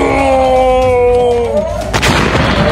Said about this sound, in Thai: โอ้เขาจะยิงปืนใหญ่ไปแล้ว